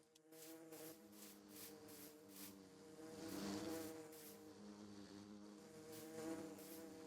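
Bees in Minecraft give a soft, steady droning buzz that swells and fades gently over several seconds, faint and close with no speech.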